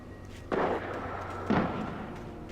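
Gunfire in the video game Alan Wake, two heavy booming shots about a second apart, loud and close over a low background rumble.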